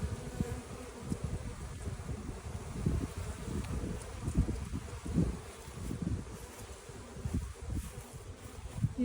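Honey bees buzz around overwintered hives outdoors, a dense close swarm hum with individual insects droning past the microphone and light wind noise.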